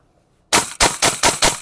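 EMG Noveske gas blowback airsoft rifle fires on full auto after a moment of silence: five loud, sharp reports in quick, even succession, close to the listener.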